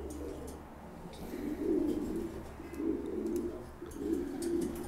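Pigeons kept in a loft, including a big-nosed hen, coo softly in low, rolling phrases that rise and fall every second or so, close by against a quiet background hum.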